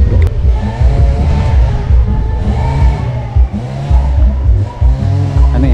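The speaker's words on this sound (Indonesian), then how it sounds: "Nih ada mobil off-road nih teman-teman nih." A Suzuki Jimny off-road car passes close by, its engine loud and rumbling with a steady low drone that swells and eases as it moves through.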